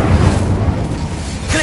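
An Incendio fire spell goes off in Hogwarts Legacy with a booming, rumbling burst of flame that fades off, and a voice is heard speaking over it.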